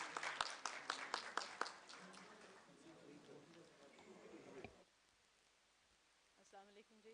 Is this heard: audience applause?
yes